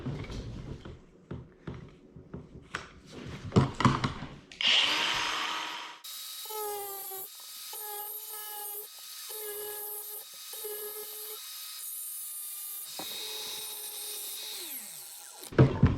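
A thin aluminium Fancy Feast cat food can is cut around a groove to trim off the excess metal, giving close scraping, scratching bursts followed by a long sustained tonal cutting whine with brief pauses.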